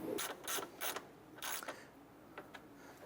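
A ratchet snugs down the bolts on a radiator cooling fan assembly of a 2008-2012 Honda Accord: four quick close bursts of ratcheting clicks, then a few fainter, sparser clicks.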